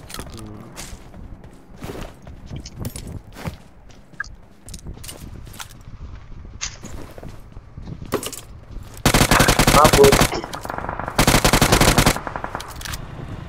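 Gunfire in the video game PUBG Mobile: scattered single shots and footsteps early on, then two loud, sustained bursts of automatic fire near the end, with players talking in between.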